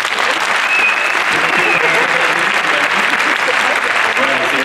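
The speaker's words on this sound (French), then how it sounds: "Faites-lui un tonnerre d'applaudissements." An audience at a hypnosis comedy show in a large concert arena breaks into loud, dense applause that stays constant and strong throughout, with a faint cheer or whistle riding on top.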